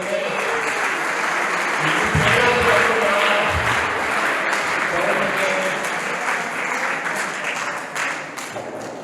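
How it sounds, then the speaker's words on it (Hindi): Crowd applause at a student farewell gathering for a founder manager: loud, continuous clapping from a large audience, sustained for several seconds with some voices and cheering mixed in. "उनके लिए भी जोरदार ताली बजाइए"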